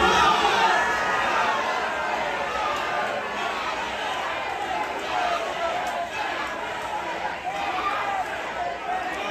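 A crowd packed into a bar, people in cowboy hats and trucker hats: dense, loud, continuous chatter and shouting from many voices at once, with occasional cheers rising out of the steady roar.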